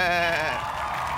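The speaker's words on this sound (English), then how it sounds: "This is a sheep." A sheep bleats in one long, loud, wavering cry close by, fading off into background noise that carries a hint of voices.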